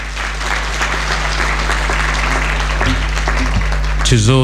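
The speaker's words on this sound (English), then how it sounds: "a big round of applause again to those" Audience applause for startup awardees at an innovation week event in Nairobi, steady crowd clapping over a constant low electrical hum, with a voice speaking over the tail end.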